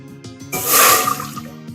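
Water and milk pour into a pot on a stove in a short, loud rushing splash that lasts under a second, with quieter clinks before and after.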